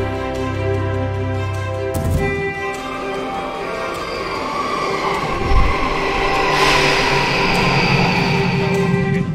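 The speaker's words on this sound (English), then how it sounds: "The day begins with a long train ride in the glow of dawn." Steady rumble and hum of a moving train cabin in Japan at dawn, with a low drone, a sudden shift in tone and rising wheel noise; no voices.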